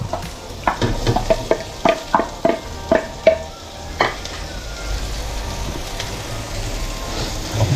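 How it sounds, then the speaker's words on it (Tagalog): Tomato, garlic and onion sauté in a pan, with a run of quick rhythmic spatula scrapes and knocks against the metal over a steady sizzle, which then settles into continuous frying hiss. "igisa na natin ating kamatis Sabayan na yung bawang sibuyas"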